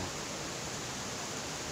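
Aek Limut waterfall in a natural scenic area, a constant broadband rush of falling water with no breaks, steady and fairly distant.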